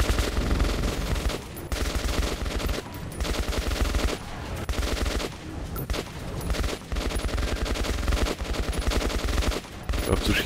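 Automatic gunfire from the video game Metro 2033 Redux rattles in several long, dense bursts separated by short pauses, loud and close, with a few quiet spoken words in between.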